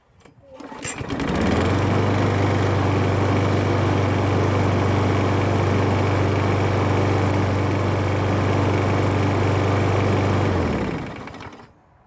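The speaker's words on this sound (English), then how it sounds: "I'm going to show you me starting the mower" A Husqvarna lawn mower engine, fitted with a bent blade and a sheared key, starts after a brief pull and then runs loud and steady at close range with a constant low drone until it cuts off near the end.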